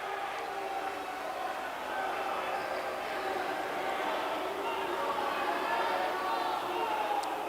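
Basketball arena crowd at a college game between Nicholls and McNeese, a steady loud murmur and roar of disbelief over an overturned call, sustained throughout with no breaks.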